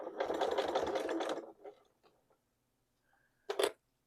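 A home sewing machine stitches fabric overlay bag handles in a steady close whir for about a second and a half, followed by quiet fabric handling and a short final burst.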